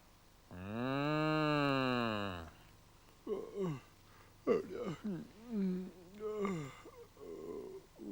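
A long, drawn-out moo rings out, followed by a person speaking in a quiet room.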